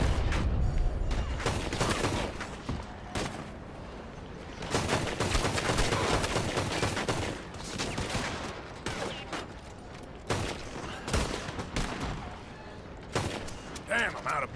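Red Dead Redemption 2 gunfight during the Great Train Robbery, repeated loud gunshots and volleys in irregular bursts with pauses between them, voices talking over parts of the shooting.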